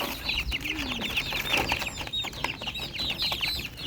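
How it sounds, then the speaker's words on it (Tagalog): Young chicks being let out of their enclosure, with a dense flurry of high, rapid peeping and chirping plus some fowl clucking and rustling, close by and continuous for several seconds. "Wait, ilabas natin yung mga sisiyo."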